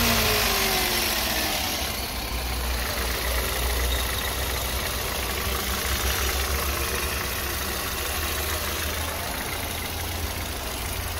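A car engine with a freshly washed engine bay idles steadily and evenly at close range, with no voices over it.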